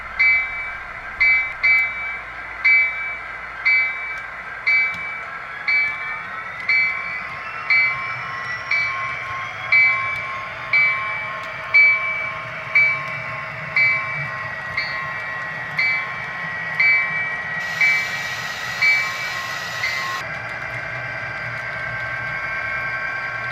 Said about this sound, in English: Looks like the coal train's all put back together and ready to proceed to the Vineland power plant.